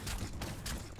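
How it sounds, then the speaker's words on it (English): Gunfire from the video game Biomutant comes as a short volley of quick bursts, brief and fairly faint. "Shooting it in the butt."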